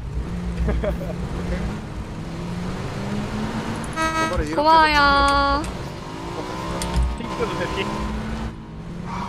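A vehicle engine drones in a PUBG match, with a horn-like tone rising briefly midway, while several people talk over it throughout.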